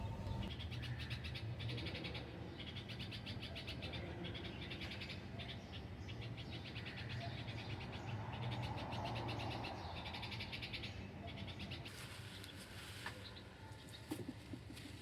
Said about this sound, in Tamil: இதில் அந்த பேர்ட்ஸ் அப்புறம் அந்த காக்காவோட சவுண்டெல்லாம் கேளுங்க ரொம்ப நல்லாயிருக்கும்